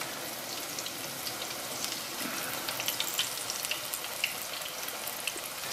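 Onion bhajis frying in hot oil over moderate heat, a soft continuous sizzle with scattered crackles and pops, fairly quiet and steady with no voices.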